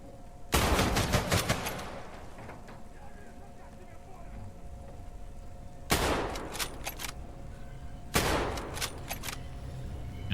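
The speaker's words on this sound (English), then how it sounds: "Oh, he's got the auto shotgun?" Auto shotgun gunfire in the video game Cloudpunk comes in three loud rapid bursts of blasts separated by quieter stretches, with a low steady hum underneath.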